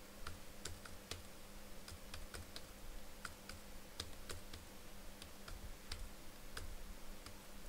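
Someone types steadily on a computer keyboard while entering data into an Excel spreadsheet, producing quiet, close-up key clicks in an irregular rhythm over a low background hum.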